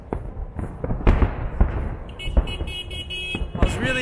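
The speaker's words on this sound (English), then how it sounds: "Victory Day fireworks!" Victory Day fireworks burst over Moscow amid heavy street traffic, a rapid series of sharp cracks and booms close by with crackling tails, car horns and a car alarm mixing in underneath.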